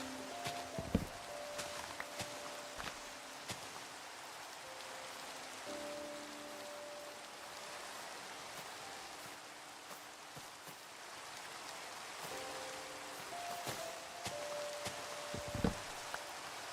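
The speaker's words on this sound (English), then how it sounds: "Love just listening to the rain." Steady rain in the video game Minecraft, a continuous soft hiss of falling drops with scattered taps and a few quiet musical tones, constant throughout with no talking.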